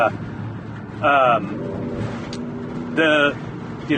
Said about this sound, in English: there's some guy with a lifted pickup truck